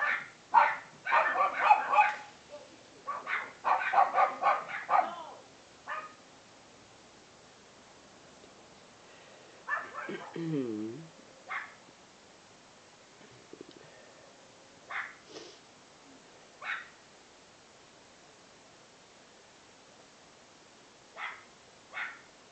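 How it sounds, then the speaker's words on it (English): Dogs bark and yip in a backyard, loud bursts clustered early then scattered sharper barks, with a whimper-like sliding tone midway and quiet gaps between. "I hope you can hear me between all the barking."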